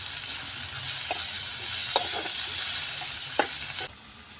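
Chopped onion and tomato fry in a hot pan for a spicy pithla, with a steady close sizzle and a few sharp scrapes of stirring.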